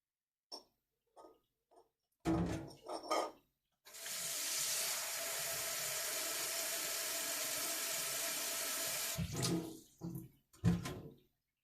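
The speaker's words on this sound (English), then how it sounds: "Put it into a bowl with water" A tap runs steadily for several seconds, filling a flat bowl with water for an egg float test, with short clinks and handling knocks before and after.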